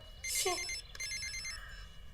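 Telephone ringing indoors, a bright electronic ring in two bursts, moderately loud and alone with no talk.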